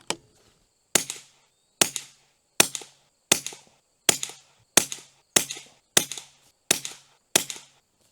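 A Ruger Precision Rimfire rifle fires eleven sharp, evenly spaced shots on a shooting range, each crisp crack followed by a short decay, with no talking.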